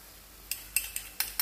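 A spoon scrapes and clinks through a thick seasoned chili mixture, just sprinkled with MSG, while it is stirred in a pot; several sharp utensil taps land over about a second, close and fairly quiet, with no talk.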